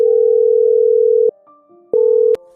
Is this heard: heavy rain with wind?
no